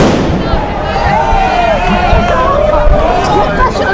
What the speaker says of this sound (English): Antifa's lighting off fireworks.